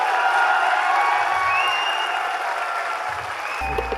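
A large audience applauds at a company's 21st anniversary speech, a dense sustained roar of clapping that holds steady throughout before a brief low thump at the end.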